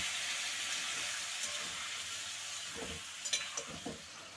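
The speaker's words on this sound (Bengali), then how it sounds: "একটু জল দিয়ে কষিয়ে নেব।" Turmeric and spices fry with a splash of water in a pan for a Bengali rui fish curry with potatoes, giving a steady close sizzling hiss, with a few scraping stirs near the end.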